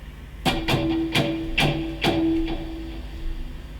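Electric guitar with muted strings is strummed in a steady pattern: a downstroke followed by upstrokes, five sharp percussive scratches close up, with a faint sustained note ringing beneath.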